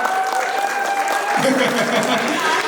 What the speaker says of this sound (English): A loud round of applause for them